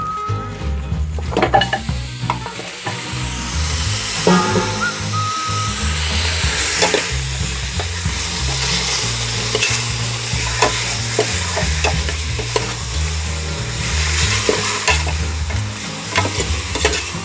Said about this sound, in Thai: ตอนนี้เราต้องคนให้คลุกเคล้าให้เข้ากันนะครับ